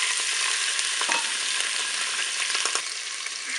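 Chicken thighs and potatoes browning in a Cookeo multicooker pot give a steady, dense sizzle with a few faint spoon scrapes throughout, close and unbroken, with no talking.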